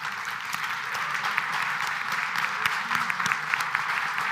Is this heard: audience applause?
yes